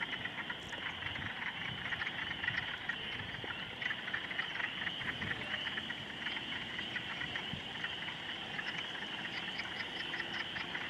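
A chorus of spring peeper frogs calling from a distant pond, faint high peeps repeating steadily over a soft background hiss.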